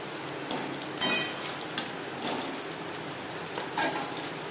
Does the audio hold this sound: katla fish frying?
yes